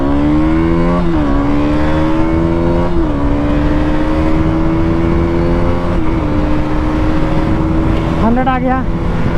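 A KTM Duke 200 or 250 motorcycle launches hard from standstill in a 0-100 test, its single-cylinder engine revving loud and close, rising steadily through several gear changes with brief dips between them.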